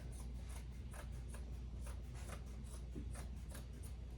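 Dull children's scissors cut through gingham fabric in a steady run of soft, repeated snips and rasping crunches, close up and quiet under a constant low hum, with no talking.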